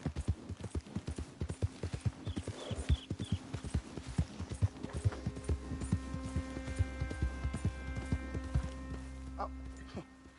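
Horse hooves clip-clop at a steady gallop in the Red Dead Redemption video game, with a rapid, close rhythm over a low engine-like game drone, and a brief high whinny-like chirp partway through.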